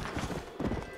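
Horse hooves clip-clopping in the video game Red Dead Redemption, a quick run of rhythmic thuds at close range, with no other sound over them.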